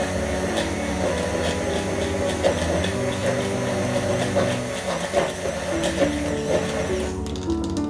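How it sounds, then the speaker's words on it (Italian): Mini immersion blender whirs steadily through Coratina extra-virgin olive oil and still water, a constant close motor drone with slight fluctuations as it churns, cutting off near the end. "Prendiamo il nostro mini pimer"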